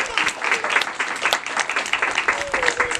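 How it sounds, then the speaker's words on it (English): An outdoor audience at Fort Pickens gives sustained, dense applause after a rifle and musket demonstration. The clapping holds steady and fairly close for about three seconds, with a faint voice underneath. "Give a round of applause for your demonstration today."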